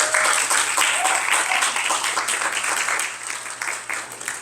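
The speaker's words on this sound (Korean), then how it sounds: "여기 타주에서 오신 분들께 환영의 박수 부탁드리겠습니다" Applause from the audience at a reunion gathering of young Korean professionals in a historic house built in 1873, a dense, steady patter of many hands clapping that carries on throughout and tapers slightly toward the end.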